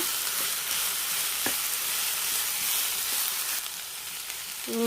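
Okra thoran frying in an open pan, a steady close sizzle broken by occasional light scraping ticks from stirring.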